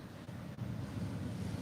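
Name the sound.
ocean waves breaking on the shore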